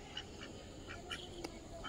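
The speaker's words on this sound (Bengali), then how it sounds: "এগুলো ক্যাম্বেল হাঁস।" Khaki Campbell ducks give a handful of faint, short quacks at an uneven pace over a quiet background.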